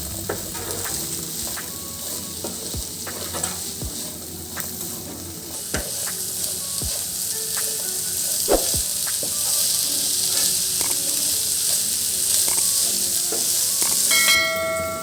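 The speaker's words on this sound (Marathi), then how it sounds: "आता त्याला छान फ्राय करून घ्यायची" Maggi samosa filling fries steadily in a pan, with a constant bright sizzle broken by frequent scraping clicks from stirring, close and loud.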